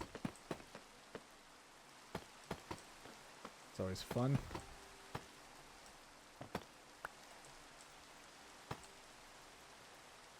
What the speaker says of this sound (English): look at that, it's raining.